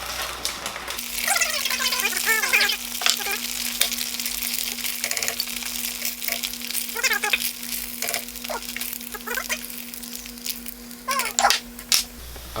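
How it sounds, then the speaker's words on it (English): Shrimp and cod tapioca balls fry in hot oil, giving a continuous close crackling sizzle with scattered pops and bursts over a low steady hum, and no one speaks. "They're still sizzling."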